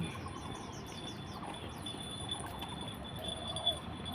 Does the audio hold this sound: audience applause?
no